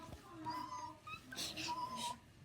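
A toy cat meows after its button is clicked, giving short, electronic-sounding mews at low volume with some background noise and faint voices.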